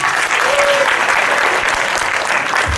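Loud, sustained audience applause at a Carnatic music annual day for young students and their parents, a dense wash of many hands clapping throughout, close and full, with a brief tone and faint voices beneath.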